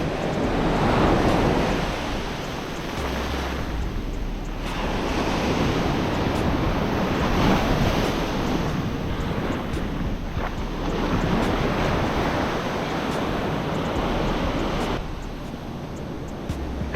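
Ocean surf rolls and crashes steadily on a northeast beach during surf fishing for striped bass, with wind buffeting the microphone throughout and no voices.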